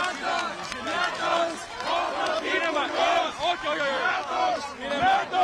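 A gathered crowd at the SYRIZA offices cheers and chants in loud rhythmic waves of massed voices, with surging shouts throughout.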